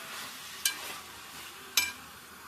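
Chicken curry being stirred in a pan, two sharp scraping strokes of a spoon against the metal over a soft, steady sizzle, with no one talking.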